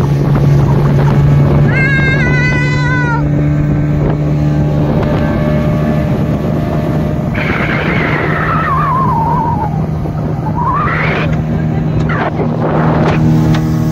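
A boat moving across a lake, a steady engine drone and rushing wind and water filling the whole stretch, with a few brief higher tonal whines rising and falling over the continuous noise.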